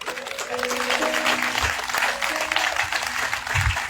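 A church congregation applauds and cheers during a French-language sermon, a continuous, fairly loud wash of clapping with a few low thumps from the room.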